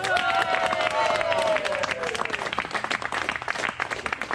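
Party guests applaud together, a dense burst of clapping from a small crowd indoors, with whistles and voices calling over it at the start, the clapping carrying on steadily to the end.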